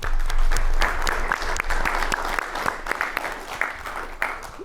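An audience at the Big IDEA pitch contest applauding, a full round of many hands clapping in a dense, sustained burst that stays loud throughout and thins slightly toward the end.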